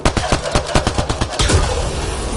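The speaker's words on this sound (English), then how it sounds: "Shooting the device will destroy it." Rapid gunfire in Mass Effect: Andromeda aimed at a Ket device, a quick rhythmic string of about a dozen loud shots followed by a sharp burst and fading rumble as the device is destroyed.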